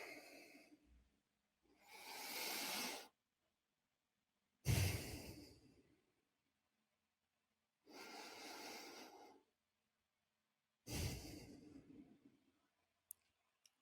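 Slow, deep breaths drawn in and let out during a workshop relaxation moment, a few long airy inhales and exhales separated by silence, close and alone with no talking.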